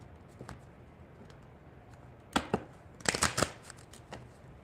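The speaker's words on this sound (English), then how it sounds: "let me just get a couple shuffles in here." A deck of tarot cards is shuffled by hand during a live reading. Soft riffling and tapping come in a few short bursts, with a longer flurry near the end, close but quiet.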